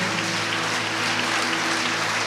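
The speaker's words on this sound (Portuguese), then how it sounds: "Aplauda o Senhor" Church congregation applauding during a worship service at a conference, a dense steady wash of clapping filling the whole moment, with sustained musical tones humming underneath.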